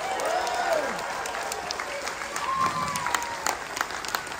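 Audience applause fills a room on board a ship, a steady dense clapping with a few whistle-like tones and bits of voice over it, moderately loud throughout.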